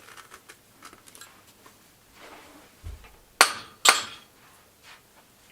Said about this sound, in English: I'm gonna go ahead and load this in my bullet puller. Screw it on, and we're gonna take some hits.